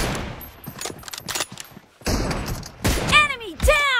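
Video game gunfire in PUBG Mobile sounds in a 2v2 room: sharp shots and bursts scattered through a few seconds, mixed with announcer-style voices and game effects.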